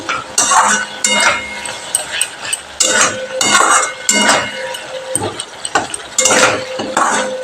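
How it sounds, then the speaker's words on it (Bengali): Bengali spice paste for bhola fish curry being stirred and fried at length in a pan, with repeated scraping and metallic clinks of a spoon against the pan and a faint sizzle underneath, close and steady. "মশলাটাকে আমি ভালো করে অনেকক্ষণ ধরে কষিয়ে নিচ্ছি"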